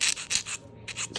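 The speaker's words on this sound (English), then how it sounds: "The more you file, the narrower it's going to be." Acrylic nail tips being shaped with a nail file: short rasping strokes in a quick back-and-forth rhythm, close and fairly quiet, with a brief pause partway through.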